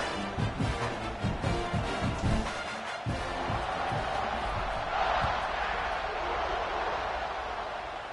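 Crowd at a college football game against Mississippi State roars steadily through a kickoff, a dense, sustained wash of cheering with some thumping bursts early on.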